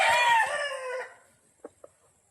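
A rooster gives a single loud, close crow lasting about a second, trailing off, followed by two faint short clucks.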